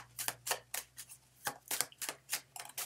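Tarot deck being shuffled by hand, a series of close, soft riffling card swishes in an uneven rhythm, quiet with a faint hum behind.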